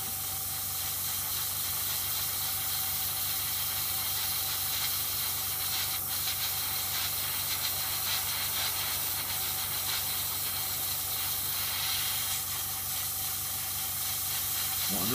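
An airbrush sprays Vallejo chipping medium onto a model surface, giving a steady close hiss of air that stays even, with small shifts around six and twelve seconds, and no voices.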